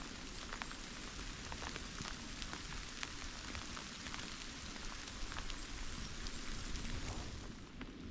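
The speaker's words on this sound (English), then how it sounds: "And the rain's coming down." Rain falling in ancient woodland among bluebells, a steady dense patter on leaves and ground, soft and continuous with no voices.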